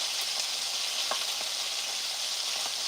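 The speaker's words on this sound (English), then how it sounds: "Let's go ahead on and put some balsamic vinegar in these. And just let them simmer a little while longer." Steady soft sizzling and bubbling of Brussels sprouts simmering with balsamic vinegar in a pan, continuous and close with faint stirring clicks.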